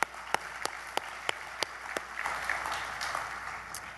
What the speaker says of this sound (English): Can we also give Dean Burr a round of applause, please?